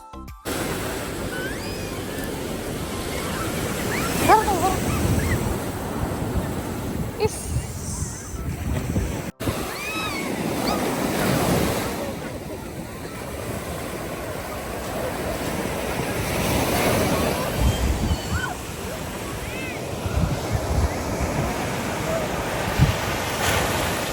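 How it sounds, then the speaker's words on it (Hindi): Sea waves crashing on a beach in the evening: a continuous surging wash with repeated swells and strong wind buffeting the microphone, loud and close throughout, with a person talking intermittently over it. "शाम के टाइम पे बोला जाता है लहरें और ज़ोर ज़ोर से मारती हैं।"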